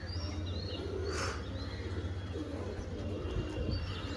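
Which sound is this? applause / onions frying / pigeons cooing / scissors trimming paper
pigeons cooing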